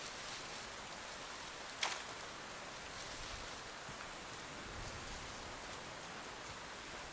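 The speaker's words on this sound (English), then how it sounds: "while it's raining, we've got some more seeds to get in the ground if we have room." Steady rain falls in the survival video game Len's Island, a dense, even hiss of drops that stays constant, with one brief sharper tap early on and no voices.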